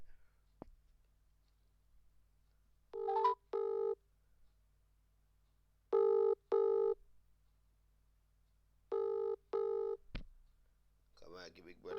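A telephone rings in repeated double bursts, three pairs spaced evenly, clear and alone, with a short burst of other noise at the end.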